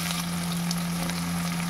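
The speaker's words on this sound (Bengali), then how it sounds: "তখন দিয়ে দিব কুচনো পেঁয়াজ" Chopped onion in hot oil tempered with nigella seeds gives a dense, even sizzle throughout, close and loud with a steady low hum underneath.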